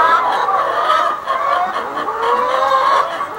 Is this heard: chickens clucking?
yes